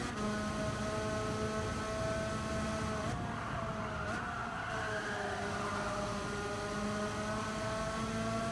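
A racing car engine in Gran Turismo 7 pulls under throttle with a continuous, steady whine of several overlapping tones, fairly loud throughout with a brief dip partway through and no speech.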